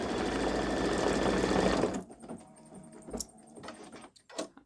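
A Baby Lock Solaris 3 embroidery machine stitches with a dense, steady whir for about two seconds, then stops, leaving faint clicks and small handling knocks close by.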